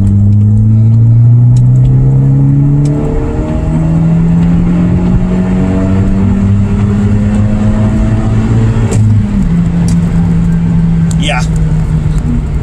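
A turbocharged car accelerates onto an interstate, its engine tone climbing through the gears in loud rising sweeps with a shift near the end, heard from inside the cabin.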